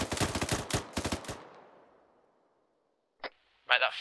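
Rapid bursts of automatic gunfire and single shots from the Arma 3 military game: a dense opening volley, a second burst, a long fading echo, then one distant crack and a final short burst.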